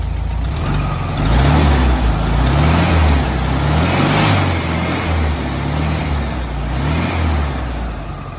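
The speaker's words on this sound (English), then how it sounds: "Look what happens when I accelerate the car." A 1971 VW Super Beetle air-cooled engine with an oil bath air cleaner, heard up close, droning loudly and steadily as the revs rise and fall in smooth surges.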